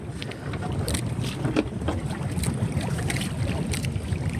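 Strong wind roars into the microphone aboard a small boat at sea while crabbing in shallow water, a constant loud rushing buffet with water splashing beneath and no speech.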